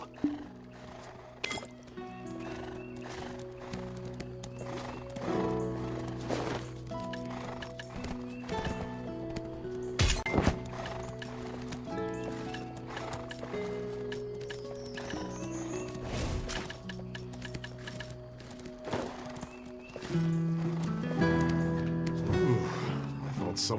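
Horse hooves clip-clop steadily in the video game Black Desert, with occasional neighs and whinnies over layered game music and voices.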